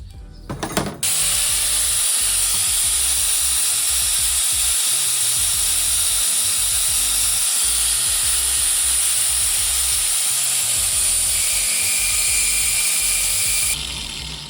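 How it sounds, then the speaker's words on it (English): Angle grinder sanding down the pie-cut sections of a Mazda Miata exhaust downpipe, a loud, steady high-pitched abrasive whine that runs continuously for most of the clip after a brief start-up, with no talking. "I think I might be able to sand it down with the grinder like this."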